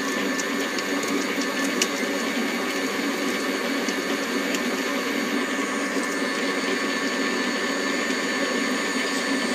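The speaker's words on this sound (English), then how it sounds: "You have to cream the butter and sugar together." An electric mixer creams butter and sugar for a pear and almond cake, a loud, steady motor whine and whir that runs without a break, with small rattles against the bowl and no voices.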